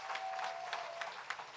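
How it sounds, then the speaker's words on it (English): Faint applause from the audience at a political public meeting in Diego Martin, a brief, distant patter of clapping lasting just over a second. "Now let's give a round of applause for that victory."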